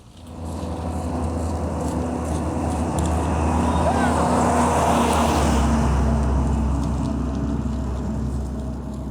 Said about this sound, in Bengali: এখানে বিকট আওয়াজে শব্দ করতেছে এই ট্রাকগুলো